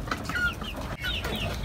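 Desi chickens kept on a rooftop cluck repeatedly at close range, with overlapping short calls over a steady background hum and no speech.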